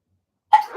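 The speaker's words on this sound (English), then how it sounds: "Oh my god, I gotta sneeze." A single human sneeze bursts out loudly after half a second of silence, a sharp onset followed by a brief breathy tail.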